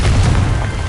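A Confringo blasting spell in Hogwarts Legacy goes off as one loud, close boom with a deep rumble that fades quickly.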